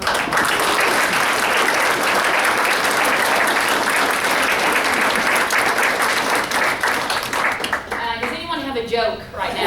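Loud, dense applause from a luncheon audience fills the room steadily, then thins and tapers off near the end as voices begin to emerge.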